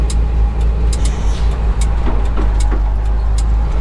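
A Mack B-21 truck engine labours steadily as the rig pulls away in gear, a deep continuous rumble that stays loud and close throughout with no talk over it.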